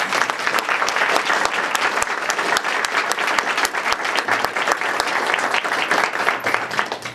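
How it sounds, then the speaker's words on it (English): Audience applause honoring veterans at an evening talk, a dense, steady round of clapping from a sizable crowd with crisp individual claps popping out, close and sustained for several seconds. "And if we could just give them a round of applause."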